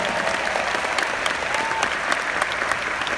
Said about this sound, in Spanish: Usted debería dar un aplauso más fuerte al Señor ahí por eso.